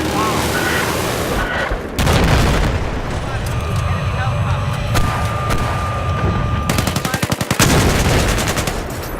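Bursts of QBZ-95-1 assault rifle fire in Battlefield 4, loud rapid automatic volleys with booming reports and distant explosions, separated by short gaps, and a voice talking under the shooting.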